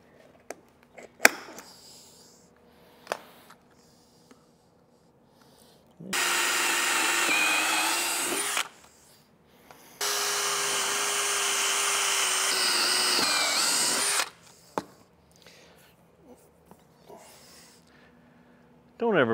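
Two sustained bursts of a power drill with a cheap drill bit whirring loudly, each several seconds long, separated by quieter handling clicks and knocks, while fitting tin roofing on a lean-to.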